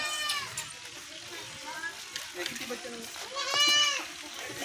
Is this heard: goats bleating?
yes